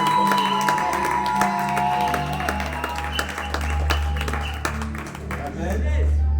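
A church congregation at an ordination and foot-washing service in Montauban claps and cheers loudly and continuously, the rhythmic applause mixed with music and voices throughout.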